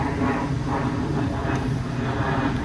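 Airplane passing overhead, a broad continuous rumbling roar that stays loud and steady throughout, heard outdoors in a natural setting.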